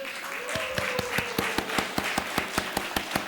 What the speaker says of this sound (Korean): 우리 박수하고 하나님께 영광의 박수 올리도록 하겠습니다